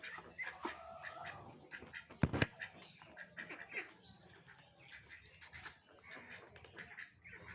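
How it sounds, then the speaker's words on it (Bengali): Ducks feeding on a mash of rice and bran on a village farm, with busy pecking, dabbling and scattered soft quacks close by, plus one sharp knock midway; no talk. "এগুলো সব হাঁস, আমার সব হাঁসগুলো মজা করে খেয়ে ফেলে।"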